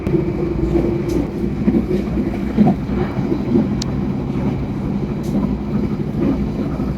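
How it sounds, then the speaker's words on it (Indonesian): Ambarawa Ekspres passenger train, a long 16-car service, heading toward Bojonegoro station, heard as a steady low rumble of wheels and carriage noise throughout, with a faint squeal and slight rattles. "Sekarang ini kereta sedang menuju ke arah stasiun Bojonegoro."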